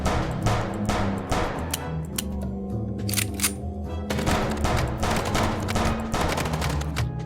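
Rapid gunfire from Marty in the game Chicken Police, with bursts of close, loud shots cracking in quick irregular volleys throughout, briefly thinning before resuming.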